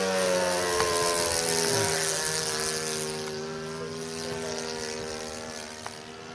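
An RC scale Hawker Hurricane warbird model's engine drones steadily in flight with a chugging, buzzing tone that fades slightly as the plane moves away, heard outdoors and without talk.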